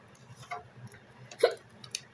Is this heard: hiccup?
yes